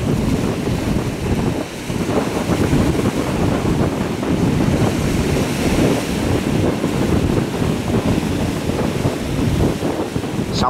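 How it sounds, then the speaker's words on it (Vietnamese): Sea waves shove a boat back and forth in a storm, with a constant loud rush of water and heavy wind buffeting the microphone throughout and no speech. "Sóng nó đẩy tới đẩy lui"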